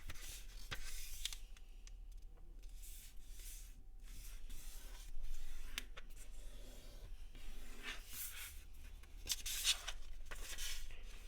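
Origami paper folded in half, giving soft, close rustles and creasing rubs in short scattered bursts against a quiet room, with no one speaking.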